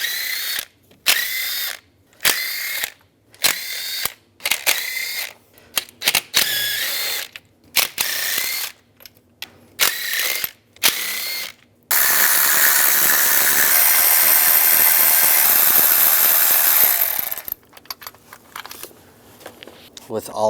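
A ratchet fitted with an 8mm socket works loose the valve cover bolts on a 2007-18 Jeep Wrangler, with bursts of rapid clicking broken by short pauses and then one long continuous run of ratcheting nearby.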